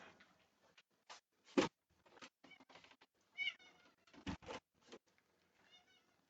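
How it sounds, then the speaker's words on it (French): A cat meows repeatedly indoors during a lecture, several short, fairly faint mews and chirps scattered irregularly across the recording, close but quiet, with gaps of near silence between them. "j'espère que les miaulements s'entendront sur l'enregistrement"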